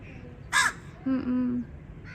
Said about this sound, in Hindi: ये देखो कौवा भी आ गया।